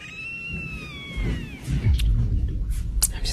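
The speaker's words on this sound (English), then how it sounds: "That last one was a cat." A cat outside a window at night gives a long, drawn-out yowling meow that rises and falls, followed by rustling and thumps nearby.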